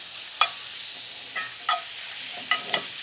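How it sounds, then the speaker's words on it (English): Small-cut shrimp and calamari cooking outdoors, a steady hiss of sizzling with several light scraping taps as the seafood is moved around, close and moderately quiet. "This seafood is cut so small, it will cook very, very quickly."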